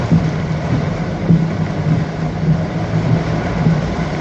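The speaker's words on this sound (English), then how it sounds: "look at that, the heaviest rain in Malaysia looks like" Heavy tropical rain in Johor Bahru, Malaysia pours in a dense, steady roar with low rumbling underneath, continuous and close, without talk.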